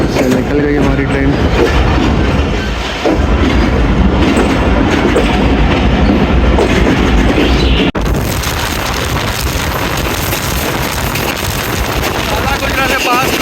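The 101 Up railcar from Lahore to Rawalpindi rolls out of Jhelum station. It gives a loud, continuous rumble with clattering wheels on the rails and a brief jolt midway.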